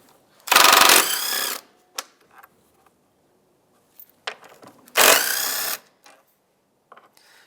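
A ratchet or power tool loosens 10 mm bolts on the intake duct of a Mazda CX-9 in two loud, close bursts, each about a second long, with small clicks and handling noises between them.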